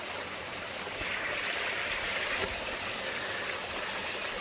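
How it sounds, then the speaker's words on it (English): A small waterfall spilling into a stream at a swimming hole near Chattanooga, a steady broadband rush of flowing water, close and constant throughout with a faint bump partway, no voices. "I found a waterfall right there."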